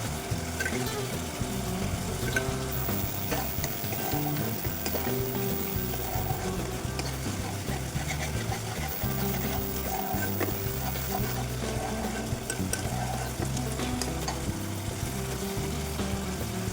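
Spice paste (masala) sizzling and frying in oil while being stirred, a steady close, loud hiss with scraping stir sounds running throughout.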